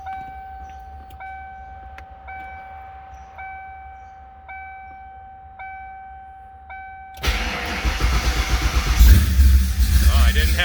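A car engine cranks and fires after a run of steady electronic warning chimes, then settles into a loud, rough idle close by, with a voice talking over it.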